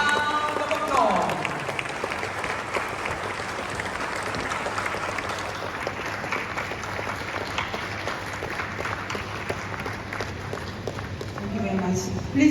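A large summit audience in Ghana breaks into sustained applause, a dense wash of clapping with crowd voices underneath that runs on for a long stretch and swells again at the end.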